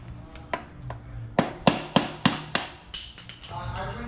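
Several sharp metallic knocks in a short irregular burst, fairly close, with a few quieter taps before and after, like a hammer striking.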